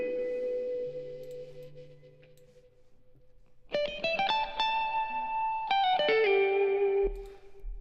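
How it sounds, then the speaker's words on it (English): A music track with heavy reverb: sustained synth-like tones with a low buzzing line, then bursts of bright plucked or struck notes that ring out in long echoing tails, no voices. "just got some reverb on this, just some reverb."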